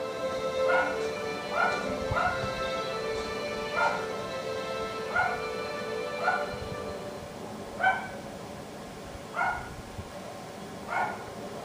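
A dog in the Dragon Age 2 video game barks and yips about eight times at irregular intervals, each bark fairly clear over a low background of game ambience.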